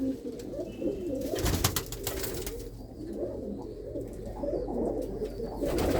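Female pigeons from a flock of long-distance competition flyers coo steadily in a loft, with many overlapping low, throaty burbles close by forming a continuous dense murmur, and no voices.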